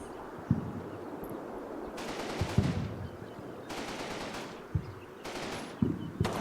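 Machine gun fire in a tactical war video game: repeated long bursts of rapid rattling fire, loud and sustained, separated by short pauses, with sharp low thuds of single shots between bursts over a steady battle rumble.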